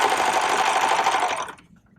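A serger sewing machine runs fast along a fabric side seam, a dense rapid whirring stitch that stops abruptly after about a second and a half, leaving a few faint ticks.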